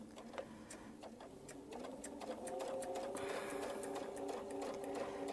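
A sewing machine stitches a quilt block along a template line, its needle ticking out rapid, regular clicks close up, then settling into a steadier running hum.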